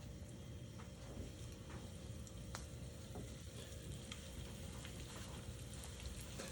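Abalone fries in hot oil in a home kitchen, giving a steady, dense sizzle with scattered small pops and crackles throughout, fairly quiet and with no voices.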